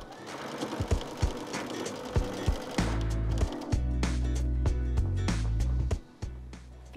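A sewing machine stitches strips of a quilt-as-you-go French braid block, running in steady bursts of rapid mechanical chatter with short pauses and clicks between seams, close and fairly loud.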